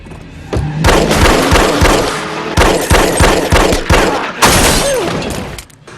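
Gunfire in a Breaking Bad episode: loud, close bursts of rapid shots and booming impacts crowd the whole stretch, with brief gaps between volleys and a short tonal sweep near the end.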